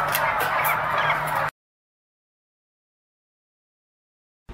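Breeder turkeys in a barn give a brief burst of dense clucking and calling, loud and close, before the sound cuts to silence and returns faintly at the end.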